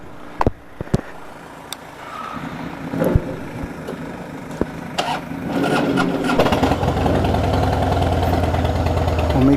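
Motorcycle engine on a group ride along the Cyprus coast from Coral Bay toward Paphos and Kourion beach, a steady idling hum with scattered clicks that swells into a louder, continuous running drone over the second half.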